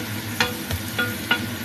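Onion sizzles in melted butter for risotto, a dense steady frying hiss with a few soft stirring scrapes at a regular pace, close and without talk.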